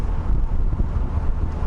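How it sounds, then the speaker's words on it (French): Strong, gusty wind buffets the microphone from a BMW driven without doors, a dense low rumbling roar that pulses continuously with no pauses. "Et on a un ouragan là."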